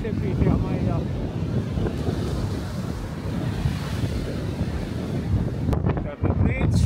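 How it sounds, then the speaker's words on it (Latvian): A strong northwest wind blows across the seashore near Ventspils in western Latvia, a steady roaring rush that buffets the microphone, with surf washing beneath it, continuous and close throughout. "Ziemeļu rietumu vējš."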